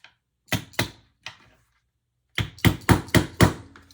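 Washers for a sewn bag are hammered flat: three isolated sharp thuds, a pause, then a quick burst of five loud, closely spaced blows, close and alone.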